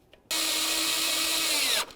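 A power drill or impact driver runs in one steady, loud, continuous whir lasting about a second and a half while snugging up the front bumper mounting bolts on a 2009-20 Dodge Journey, then spins down.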